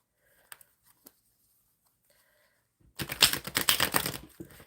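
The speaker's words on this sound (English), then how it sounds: "I'm going to shuffle this tarot deck" A tarot card deck is shuffled: a few faint taps and rustles give way to a brisk, loud burst of riffling cards lasting about a second and a half, then it stops.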